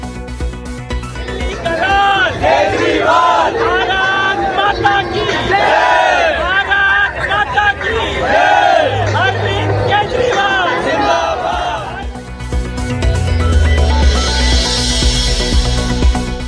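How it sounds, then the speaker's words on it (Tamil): A large crowd at an IPL cricket match in Delhi chants slogans and roars loudly in unison, rhythmic shouting rising and falling over a dense wash of voices, heard from within the stands. "டெல்லியில் ஐபிஎல் போட்டியின் போது கெஜ்ரிவாலுக்கு ஆதரவாக முழக்கமிட்டதால் பரபரப்பு"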